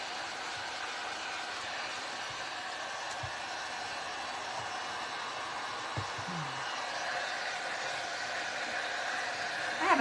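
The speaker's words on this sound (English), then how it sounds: "I'm going to go ahead and heat this a little bit, because that'll help it dry a little bit maybe and hold it on there a little bit better" A heat tool blows warm air over a DIY heart craft to help it dry, giving a steady, even whooshing hum that holds at one level for the whole stretch with no talking.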